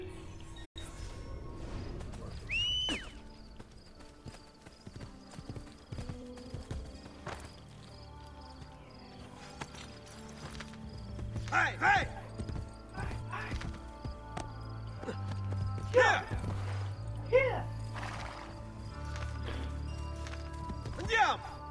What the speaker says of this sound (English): This horse is gonna piss me off.